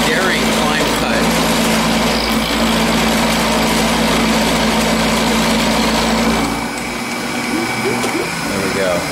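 A Chinese CNC mill takes a climb cut, giving a loud, continuous whirring grind with a machine hum underneath. The sound eases slightly near the end.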